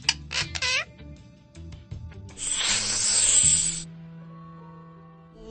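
A snake hisses behind a door in a Paw Patrol video game: one loud, breathy hiss lasting about a second and a half, set among chirpy game sound effects and a sustained musical tone.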